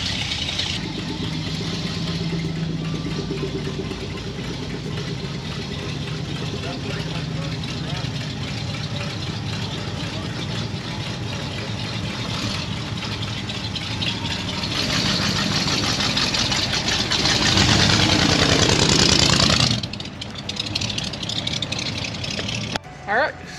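An old Ford-era vehicle engine cranks over and settles into a continuous, fairly loud idle that runs throughout, swelling louder for a few seconds near the end before dropping back.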